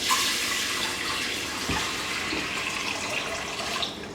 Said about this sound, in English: We're just going to add some water.